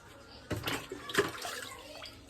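Water is poured from a bucket for washing hands and face, making a few short splashing gushes close by within a couple of seconds.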